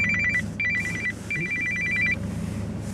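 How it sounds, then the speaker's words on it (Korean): A telephone rings in repeated bursts, the call coming from a public payphone, with a steady low hum of background noise underneath. "전화 왔어요 지금."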